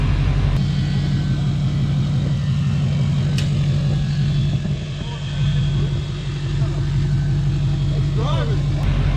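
A GMC Yukon swapped with an LBZ Duramax diesel engine drives, giving a loud, steady low rumble that holds throughout with a brief dip midway, close and dominant with no clear talk over it.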